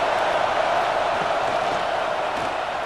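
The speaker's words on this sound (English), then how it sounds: "listen to this crowd noise. This stadium is vibrating" A packed stadium crowd roars at an Alabama vs Oklahoma college football game, a dense, steady wall of cheering and noise that holds at a constant level with no break.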